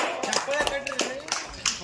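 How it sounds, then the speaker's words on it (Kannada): A village crowd claps at a Nag Panchami strength show in Badami, a few scattered sharp claps breaking through ongoing chatter and talking voices. "ಚಪ್ಪಾಳೆ ತಟ್ಬೇಕು. ಎಲ್ಲಾರು"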